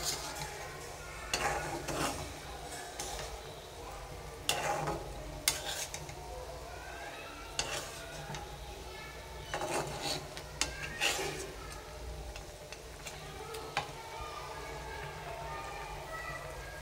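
Beef rezala being stirred and fried in a pan with fried onions, giving rasping scrapes and a soft sizzle in irregular strokes, fairly quiet, while a person talks over it.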